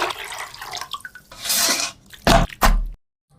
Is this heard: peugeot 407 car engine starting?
no